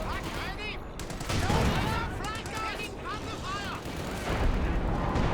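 Mortar and gunfire in Company of Heroes 2, a dense, continuous battle din of shots and blasts with someone commentating over it.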